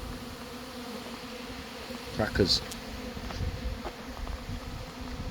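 Honey bees buzz around a bucket from a wet honey super outdoors near pigs, a steady close insect drone with a few louder passes as single bees fly near, while someone says a word.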